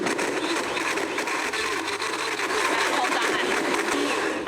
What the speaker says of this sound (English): I'm just gonna let the blender do the rest.